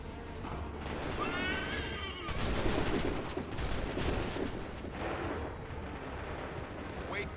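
Musket volleys in Assassin's Creed 3 sound as dense crackling bursts with a rumbling roar over a battlefield din, and a horse whinnies faintly near the start.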